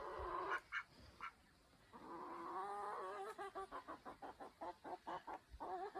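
Chickens in a smallholding pen, three hens and a cockerel, cluck nearby in a run of short, repeated calls that speed into quick rhythmic bursts, with no one speaking.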